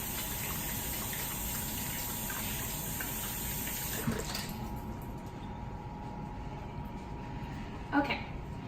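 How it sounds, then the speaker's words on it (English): Tap water runs steadily into a sink while hands are washed under it, a continuous close gushing with brief splashes, as a person talks over it. "First we're going to start off with washing our hands."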